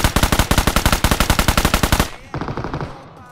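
Rapid automatic gunfire in the BGMI battle royale game: a loud, steady burst of evenly spaced shots for about two seconds, a short pause, then a second, quieter burst fading away.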